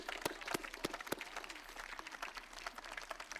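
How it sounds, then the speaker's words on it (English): An audience at a city State of the City event breaks into applause, with sharp individual claps standing out over a thinner, fairly quiet spread of clapping throughout. "Let's give them a round of applause."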